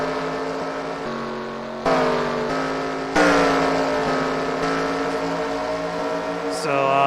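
Stock cars racing in the eNASCAR Heat video game, a constant layered engine whine whose pitch jumps and shifts as cars pass and change gear, loud with no talk.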